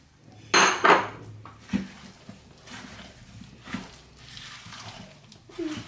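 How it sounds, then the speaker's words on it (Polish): Apple cake batter with flour and cinnamon is mixed in a bowl, giving scraping, knocking strokes of a utensil against the dish, loudest at the start, then irregular softer clinks and scrapes. "I ciasto mieszam"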